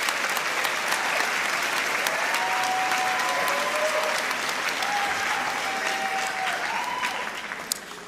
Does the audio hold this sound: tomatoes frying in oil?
no